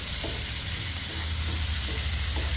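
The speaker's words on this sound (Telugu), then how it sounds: "మనం దీంట్లో ఈ టమాటాలను ఫ్రై చేసుకోవాలి" Tomatoes frying in half a spoon of oil in a pan for a tamarind chutney, a loud continuous close sizzle with soft stirring scrapes underneath, no voices.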